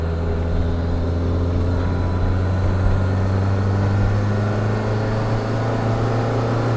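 A VW turbodiesel car engine pulls hard in second gear around 3,400 RPM, a steady, loud droning hum with a strong low tone that holds evenly throughout, with no talking.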